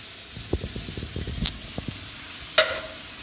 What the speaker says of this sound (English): So again, we've got our diced tomatoes. Probably go in with them first.